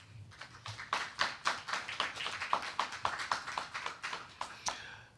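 A Sunday celebration congregation claps in a fairly steady rhythm, roughly fifteen distinct claps at moderate distance, easing into a few looser claps and then trailing off to quiet.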